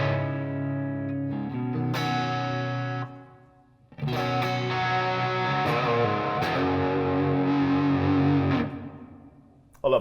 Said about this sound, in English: It comprises of my Digitech Polara, which is a wicked, awesome reverb pedal.